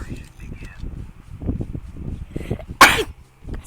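One sharp, loud sneeze bursting out near the microphone during a Call of Duty gaming session, preceded and followed by continuous speech.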